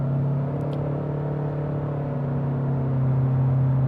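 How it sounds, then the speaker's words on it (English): A 2025 Honda Accord SE with a CVT accelerates at about one-third throttle, a steady low engine drone and road rumble heard from inside the cabin, holding a constant pitch and swelling slightly near the end. "We'll open her up a little bit more, not full throttle, but regular daily acceleration"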